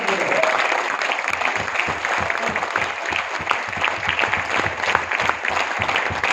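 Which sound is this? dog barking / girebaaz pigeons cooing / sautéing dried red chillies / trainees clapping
trainees clapping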